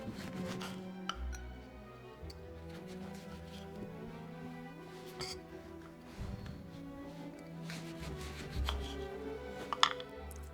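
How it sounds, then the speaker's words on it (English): A knife slices an orange into quarters on a cutting board for mulled cider, giving a few soft chopping taps and clinks close by over a low steady hum. "what I'm going to do is cut that into quarters"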